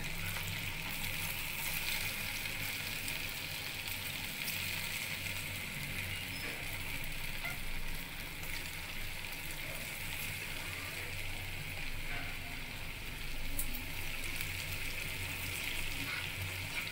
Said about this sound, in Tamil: இப்போ இது நல்லா ஃப்ரை பண்ணி எடுத்துக்கலாம்.